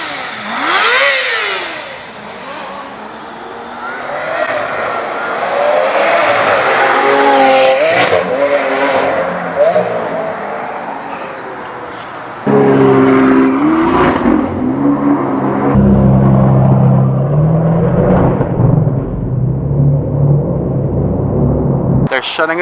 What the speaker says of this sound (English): Lamborghini Aventador SV jumping and a GTR jumping.